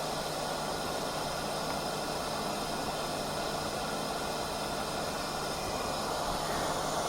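Hot air from a Bakon BK8586MX rework station blows as a steady, even broadband hiss with a low hum, unbroken and constant throughout, close by with no talking.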